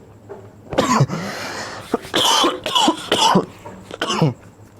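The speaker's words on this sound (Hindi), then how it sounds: "थोड़ी खांसी ज्यादा हो रही है" Several harsh coughs in a row from a nearby person, separated by short pauses and throat clearing.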